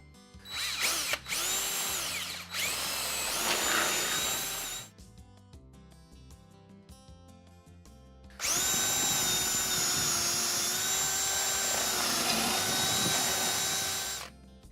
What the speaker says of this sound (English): Drill halfway through both sides of the post.